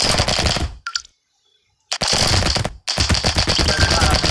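Rapid machine-gun fire from the video game Brotato comes in dense bursts, broken by a short silent gap and a brief pause before it resumes.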